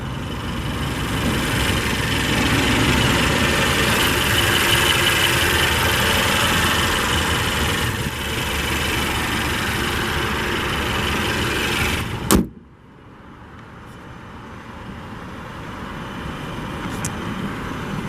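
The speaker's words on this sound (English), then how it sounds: "this engine has plenty of power" A turbo four-cylinder car engine idles with a steady low hum for about twelve seconds, then a door thuds shut and the idle carries on more faintly from inside the car.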